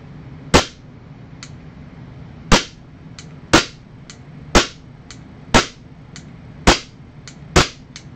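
Gunshots on a shooting range during MantisX training, seven sharp loud cracks spaced one to two seconds apart, each with a brief tail, alongside fainter distant shots from other shooters.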